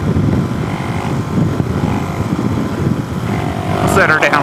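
Suzuki DRZ 4S motorcycle engine humming steadily in fifth gear on the road, a continuous drone mixed with wind rush, a rider's voice coming in near the end.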